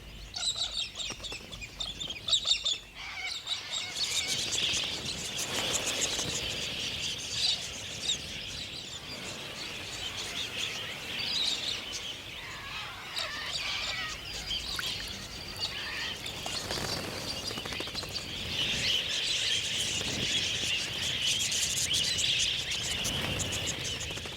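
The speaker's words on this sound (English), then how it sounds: "Galahs seem to have plenty of time for clowning around." Galahs, pink-and-grey Australian parrots, calling in the wild: a continuous chorus of harsh, high screeches and chirps from a flock, fairly loud and steady throughout, with no talk.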